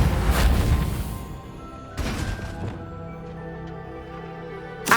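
The Reparo repair spell in Hogwarts Legacy plays as two loud crashing bursts about two seconds apart. Each is followed by a softer rattling, settling decay and a faint tonal shimmer, with a brief sharp hit at the very end.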